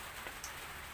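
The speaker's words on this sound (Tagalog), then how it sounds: "Umuulan, maulan." Rain falls as a faint, steady hiss throughout a short moment, with no voices.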